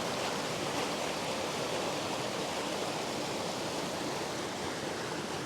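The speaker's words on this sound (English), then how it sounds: "I'm here in a fantastic place with this stream of water, which is quite powerful because of the rains" A powerful stream swollen by rains rushes in a continuous, loud, broadband roar, close and steady throughout with no voices.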